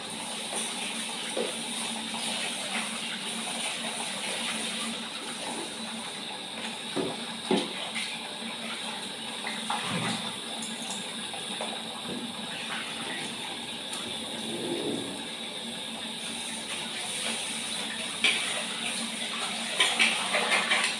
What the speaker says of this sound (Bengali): চলো চালটা ধুয়ে নিই।